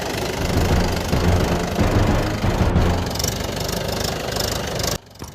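A tractor engine runs loud and close with a steady rumbling, knocking idle, then drops away abruptly near the end.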